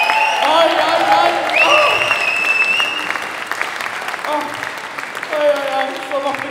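Audience applause and cheering fill the hall at a jazz concert in Oslo, a steady dense clapping that carries throughout, with voices and whoops rising over it.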